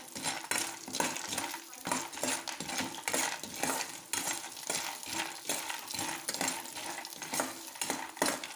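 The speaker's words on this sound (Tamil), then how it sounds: "இப்போ அதே நெய்யில் மேக்ரோனி போட்டு வறுத்து எடுத்துக்கலாம்." Continuous crackling sizzle of macaroni frying in hot ghee, with scraping stirs and occasional clinks of a utensil against the pan, close and steady.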